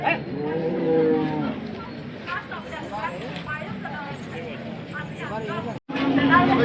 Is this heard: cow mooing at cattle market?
yes